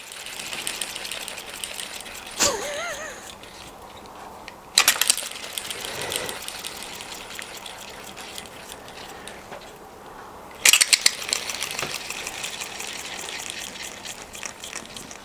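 A small hand-built axial flux generator module with a serpentine coil, spun by hand, giving brief whirring spins separated by pauses, with a couple of sharp clicks and clatters, close and fairly loud, no talking.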